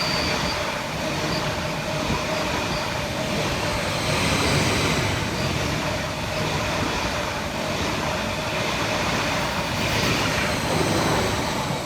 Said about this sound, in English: coming in the opposite direction for Greater Anglia is 745-108, working 1 Bravo 37 from Stansted Airport through to London Liverpool Street